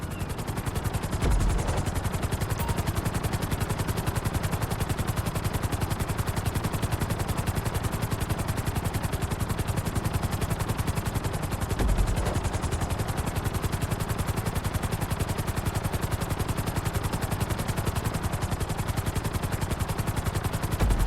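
A helicopter flies in the GTA V flight school course, giving a loud, continuous rapid rotor chop that stays steady and close, like fast clattering, for the whole stretch with no talk.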